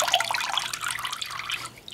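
Socks soaking in a basin of water give soft, close sloshing and trickling, a brief quiet watery swirl with no talking.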